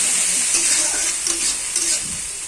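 Ginger garlic paste with green chilli and onion paste frying lightly in oil over browned onions, a loud, even sizzle with soft stirring swishes, close and unbroken.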